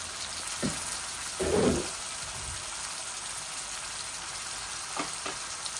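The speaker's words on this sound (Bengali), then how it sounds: "আমি 3 পিস মাত্র রান্না করতেছি। শুধু ভুনবো এটাকে।" Three pieces of marinated chicken thigh sizzle steadily in a little oil as they are bhuna-fried, with a louder stirring burst early on and a few brief spatula scrapes later, no talking.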